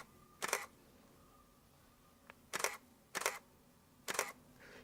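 A DSLR camera shutter, a Canon model set against a Canon 5D Mark II, fires in four crisp, separate clicks spaced about a second apart. Each click is near and distinct against a quiet background.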